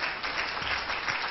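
A church congregation claps in praise during a Pentecostal service, giving a dense, steady burst of applause that fills the room.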